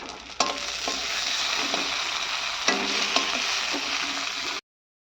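Tomatoes hit hot oil and spices in a pan where small fish have already been fried for a curry, setting off a steady loud sizzle with a few sharp stirring scrapes, then stopping abruptly.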